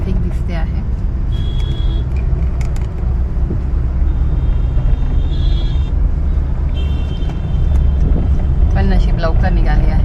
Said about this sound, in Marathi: आता इथे आम्हाला थोडीशी ट्रॅफिक दिसते आहे.